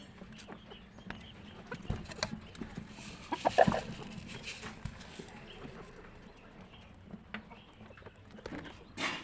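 Chickens, including Silkie and Polish Cap hens, clucking softly on a rooftop yard, scattered faint clucks with a louder burst partway through and light thumps around them.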